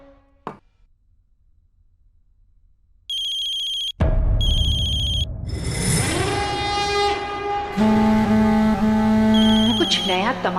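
A phone rings with electronic beeping tones, followed by a loud, busy ringtone melody that continues to the end, with voices briefly heard.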